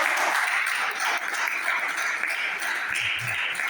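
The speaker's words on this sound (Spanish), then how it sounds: "Dale un fuerte aplauso al Señor" Steady applause from a church congregation during a sermon, a dense even patter of clapping that continues throughout without pause.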